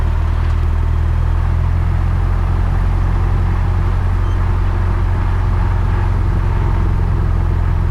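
A Cessna 172's engine runs at throttle before the takeoff roll, a steady, loud low rumble filling the cabin with a constant drone and no voices.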